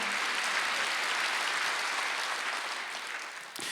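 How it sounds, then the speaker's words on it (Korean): A church congregation at a Wednesday worship service applauds together, a dense, even wash of clapping that holds steady and then tapers toward the end. "박수하세요."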